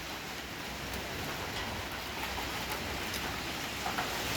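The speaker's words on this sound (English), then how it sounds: "It's a rainy day." Steady rain falls at a beach house building site in the Philippines, a soft, even hiss with scattered faint drips and no talking.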